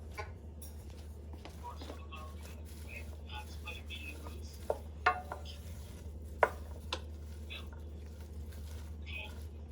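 Hot peppers are tossed and stirred in a bowl, giving sparse, faint clinks and scrapes over a steady low hum, with a few sharper knocks scattered through.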